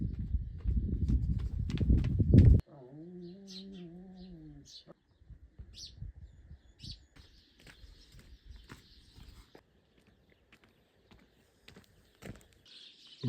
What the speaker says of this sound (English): You can just hear the sounds of birds, and you can see the sun is starting to rise.